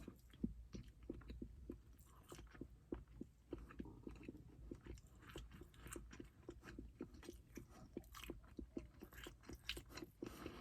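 Slow, wet chewing of a large, dry bite of sandwich topped with Guy Fieri's Flavortown Donkey Sauce, close and quiet, with a steady rhythm of soft crunches and mouth clicks and no talk.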